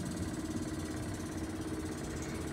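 A Wilesco D100E model steam engine runs steadily with a dense low mechanical chugging and hum, close and continuous as it begins to slow down.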